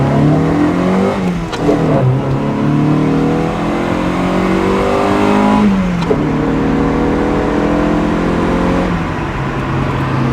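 A Rolls Royce limousine engine without a turbo runs cold with no warm-up. It gives a steady, loud, close-up drone, with a couple of rising revs that sweep up and settle back to a rough idle.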